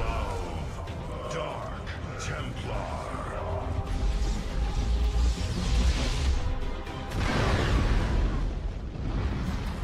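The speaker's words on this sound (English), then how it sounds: "Cool guys don't look at explosions." Explosions and mechanical effects in StarCraft II: Legacy of the Void rumble in repeated bursts, building to heavy blasts near the end, over a dense layer of synthetic noise.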